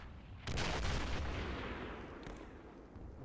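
A heavy artillery blast in Men of War: Assault Squad 2 at Kursk lands suddenly and then rumbles away in a long, fading boom, with a fainter second report near the end.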